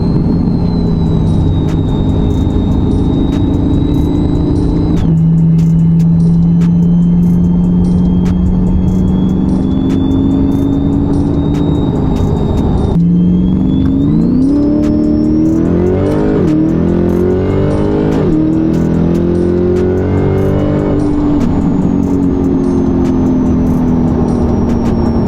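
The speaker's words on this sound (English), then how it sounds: "I love supercharged C8 Corvettes" A supercharged C8 Corvette with an LT2 engine accelerates hard through the gears on a street in Mexico. The engine and supercharger whine climb steadily in pitch, break briefly at each shift and keep up a loud, continuous roar from inside the car.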